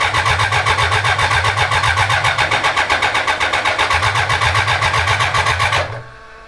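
A 1000cc mini trophy truck kart engine cranks and fires with a loud, steady rhythmic chug for about six seconds, then cuts off abruptly into quiet.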